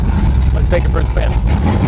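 Deep, loud engine rumble from a Dodge Dart drag car as it sets off for a drive, with someone speaking over the engine.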